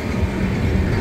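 Steady low rolling rumble of a moving passenger train nearing Badarpur junction, with faint wheel clatter throughout, continuous and moderately loud.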